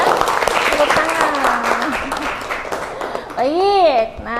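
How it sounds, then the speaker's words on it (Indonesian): Classroom applause for a student named Naina, a burst of clapping from pupils mixed with children's voices and a teacher speaking, ending in rising, sing-song chatter. "tepuk tangan buat Naina ya. Tepuk tangan."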